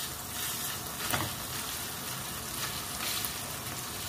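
Bitter gourd (ampalaya) sautéing in a dry pan with no oil, giving a steady close sizzle and crackle throughout, with faint stirring scrapes and no talking.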